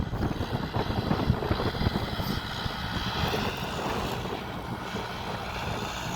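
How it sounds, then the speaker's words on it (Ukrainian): A tractor engine's steady low rumble runs throughout, loud and continuous, while rolling a field with a KKSh-6 roller, with gusty wind noise buffeting the microphone outdoors. "Та ось трактор."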